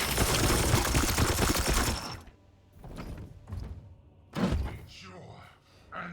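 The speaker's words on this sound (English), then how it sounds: "Might as well take the shots, though." Gunshots fired at an enemy in the video game Warhammer 40,000: Chaos Gate - Daemonhunters: a loud, dense volley opens, followed by scattered sharp thuds and bursts, with voices speaking between them.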